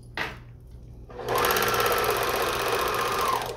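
A sewing machine runs steadily and loudly for about two seconds after a brief quiet start, a continuous whirring drone while stitching during cami-making with a binding attachment.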